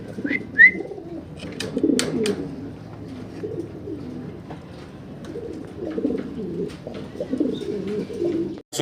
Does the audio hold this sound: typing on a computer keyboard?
no